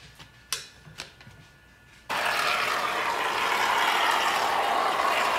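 A can of spray foam clicks a few times, then a continuous loud hissing spray starts abruptly and carries on steadily as foam is pushed into gaps during a sunroom makeover.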